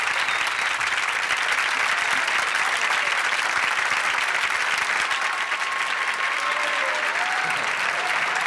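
A studio audience at a 1971 television talk show applauds steadily and loudly in a dense, continuous wash of clapping that never breaks.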